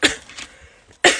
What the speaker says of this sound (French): j'ai une toux d'irritation